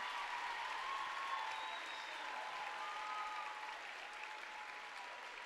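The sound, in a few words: crowd applauding a cheerleading performance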